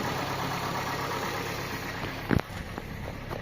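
Engine of a 2013 Kia Sportage running on LPG gas, idling at a steady, even hum throughout, with a brief louder knock or thump partway through and no talk.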